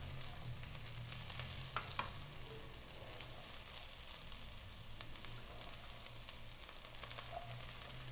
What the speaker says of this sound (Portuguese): vamos misturar essa couve muito bem